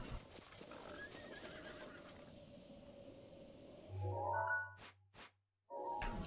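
A horse in the video game Breath of the Wild comes closer with steady clip-clopping hooves and a loud whinny, followed by a few sharp knocks, a moment of silence, then more hoofbeats.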